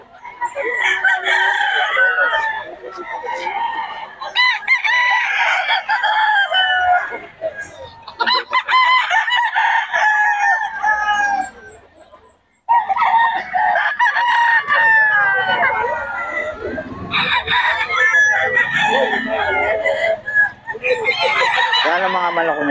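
Roosters crow repeatedly and loudly, overlapping one another, with hens clucking in between; a busy, close-up barnyard chorus.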